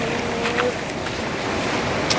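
Surf rushes and washes steadily nearby, a continuous roar of water with wind buffeting the microphone.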